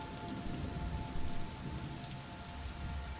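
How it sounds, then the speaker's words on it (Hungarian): Steady rain in a video game patters continuously on surfaces, a dense, even hiss of droplets with a faint low rumble beneath and a slight swell midway, no voices present. "Esik az eső."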